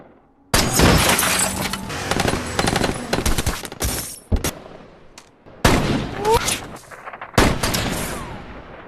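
Loud, sharp gunshots in rapid bursts with cinematic impacts and whizzes, separated by brief pauses.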